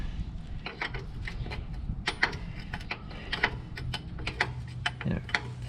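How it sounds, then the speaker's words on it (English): Wrench clicking and ratcheting as a nut is backed off during installation of a B&M shifter in a Grand Prix, a steady run of close, sharp metallic ticks with no talking. "Now, take this nut off the rest of the way."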